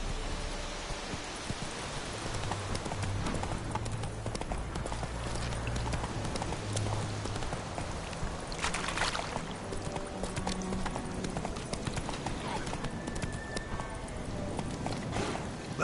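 Roach, a horse in The Witcher 3 game, gallops with steady, rapid clip-clop hoofbeats across the whole stretch, under rustling ambience and a brief whinny-like note.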